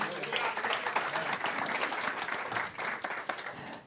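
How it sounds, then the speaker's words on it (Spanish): Church congregation applauding together, a dense steady wash of many hands clapping at close range for about four seconds, with a voice faintly audible underneath. "Un aplauso al Señor."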